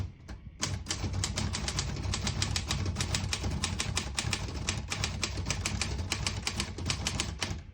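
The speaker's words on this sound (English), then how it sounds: "So on this next line, I'm just going to print a sentence." Keys clack in a fast, even stream on a 1951 Royal KMG manual desktop typewriter as a sentence is typed, crisp mechanical strikes close up with no talking over them.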